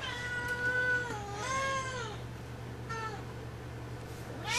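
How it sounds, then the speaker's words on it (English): A house cat meows repeatedly indoors: several drawn-out, wavering cries come one after another, with a final short, higher meow. A low steady hum sits underneath. "Oh no, cat. Not in the video."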